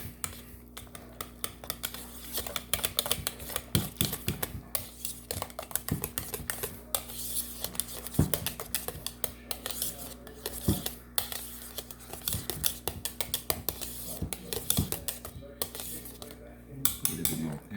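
Mixing ingredients in a bowl for a French Napoleon pastry filling, with steady clinking and scraping of a utensil against the bowl, close and continuous with brief irregular gaps.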